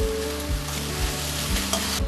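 Fried rice stirred in a hot pan gives a steady sizzle, with a rhythmic scraping stroke about twice a second.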